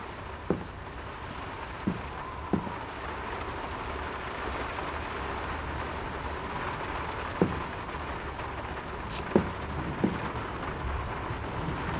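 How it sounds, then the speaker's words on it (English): Steady rain falls over a coastal village in the video game Draugen, a constant even hiss with a few faint, isolated thumps scattered through it and no voices. "It's getting late, and the rain's not abating."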